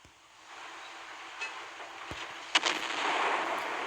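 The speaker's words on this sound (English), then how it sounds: "Look at the accuracy on that salvo." Naval gunfire in the Naval Creed warship game: a few sharp cannon reports over a rising, rumbling battle ambience, moderately distant and fairly quiet overall.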